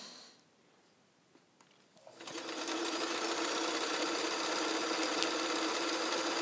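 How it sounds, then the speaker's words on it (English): A restored all-metal vintage Kenmore free-arm sewing machine, model 158.1941, starts after a quiet moment and then runs at a steady fast stitching hum, close and even, with a faint rhythmic needle chatter throughout. "I can, of course, slow my needle down if I want to, but I can also sew pretty quickly"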